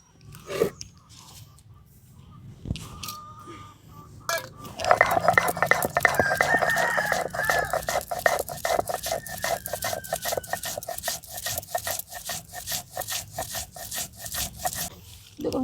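Poppy seeds and green chillies with a little salt are ground on a stone slab, a steady rhythmic scraping and rubbing that starts slowly, then runs fast and continuous, close and alone.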